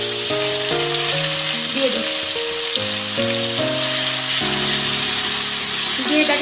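A spice paste with garam masala and dried red chilli tempering fries in hot oil, giving a steady, close sizzle throughout, with background music playing over it and a brief spoken word.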